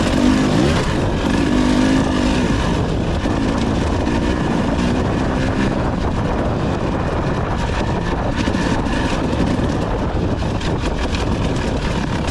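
A KTM 300 TBI two-stroke dirt bike running a TSP ECU tune pulls hard in fourth gear, its engine a loud, continuous buzzing rasp with slight rises in pitch, heavy wind rush throughout and no speech.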